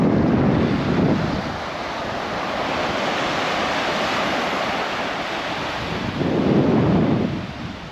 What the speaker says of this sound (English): just beyond where the waves are breaking here on the shore